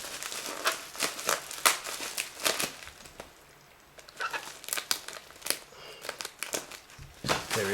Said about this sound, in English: Oh, okay, gotta get this tape off.